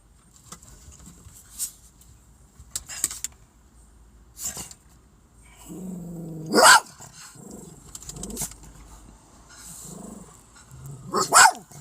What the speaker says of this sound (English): They could just hear that dog